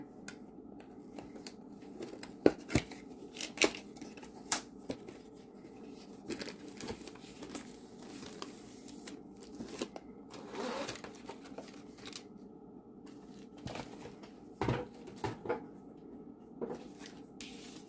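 Cardboard box of a Diamond Art Club diamond painting kit being opened, with irregular rustling, scraping and soft tapping of packaging and contents, moderately close and fairly quiet, with scattered sharper clicks throughout and no talking.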